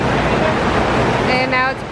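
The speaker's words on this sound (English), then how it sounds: "now it's pouring." Heavy rain pours down at an outdoor motocross track, a dense steady hiss of downpour and wind close to the microphone, with a faint voice near the end.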